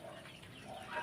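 Farm chickens cluck softly in a brief, faint burst of low clucking and rustling at close range, with no talking.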